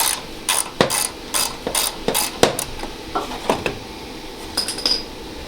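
Rapid bursts of ratchet clicking as a T30 Torx bit works a bolt loose on the front end of a VW T5 van, several short spells of close mechanical ratcheting separated by brief pauses.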